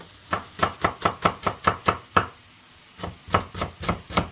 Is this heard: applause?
no